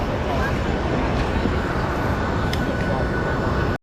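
An airliner taking off on a flight from London, heard from inside the cabin as a loud, steady engine roar with a broad rumble throughout.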